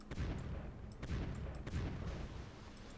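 Warship main guns firing armor-piercing shells in the naval video game NavalArt, heard as several deep booming reports with rumbling tails over a low, steady background.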